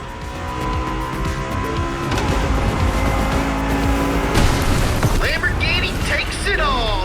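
A Lamborghini race car in The Crew Motorfest roars loudly through a mountain race, its engine note shifting as tires squeal sharply, with a voice briefly over the din.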